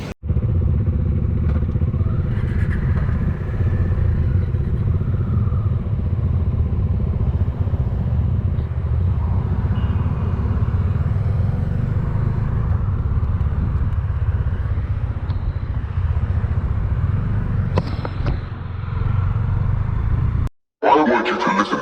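A KTM motorcycle rides along a road on a holiday group ride, its engine droning steadily and loudly up close with wind rush and occasional clatter, cutting out briefly near the end.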